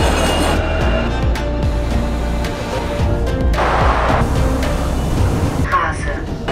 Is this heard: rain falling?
no